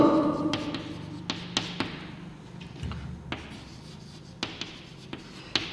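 Pen or pencil strokes on paper while a rough triangle is sketched, with scratchy writing sounds and a few sharp taps spread through the clip, close and fairly quiet with no talk.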